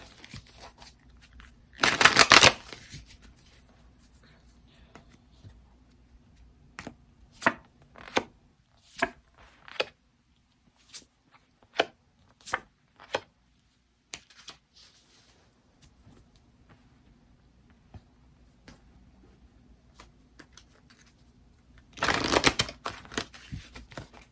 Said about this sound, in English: So I'm going to pull some tarot cards and some oracle cards